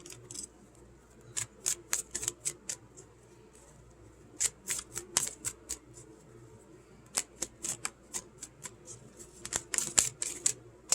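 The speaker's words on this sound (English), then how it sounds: "I'm going to shuffle one more time" A deck of tarot cards being shuffled at close range in bursts of crisp riffling snaps, with quiet pauses between rounds and no voices.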